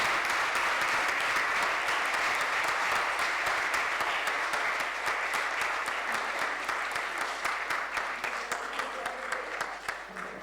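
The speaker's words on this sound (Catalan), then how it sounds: "Sisplau, un aplaudiment." Audience applause at the close of a lecture, a dense sustained clapping from a full room that holds steady for about ten seconds before thinning slightly near the end, with no talk over it.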